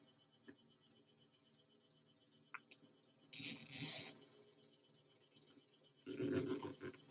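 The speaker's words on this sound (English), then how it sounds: "I was spray painting, I got sparkles all over me." Two bursts of hissing glitter spray paint, each about a second long, close and loud, separated by quiet with faint clicks and a can rattle.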